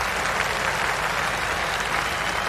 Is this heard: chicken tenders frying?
no